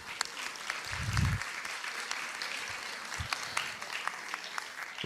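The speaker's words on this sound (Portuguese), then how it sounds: "palmas para ela" Audience applause at a national seminar on integral education held in a theater school, a steady patter of many hands clapping across the whole stretch, moderately distant and fairly soft, with a brief louder swell early on.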